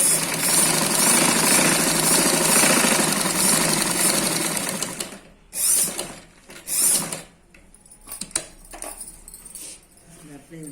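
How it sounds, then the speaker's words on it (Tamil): Sewing machine top stitching a chudithar, running loud and steady for about five seconds, then stopping, followed by short bursts of stitching and handling noises. "மேல் பக்கம் ஸ்டிச் பண்ணுறாங்க."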